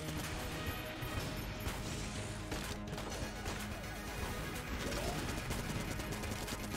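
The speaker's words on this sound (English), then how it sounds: "Let's switch to the scatter gun and see how it does." A scatter gun fires in Enter the Gungeon, a modded video game, with a dense, continuous clatter of rapid shots and impacts that stays loud and busy throughout, set among other game noise.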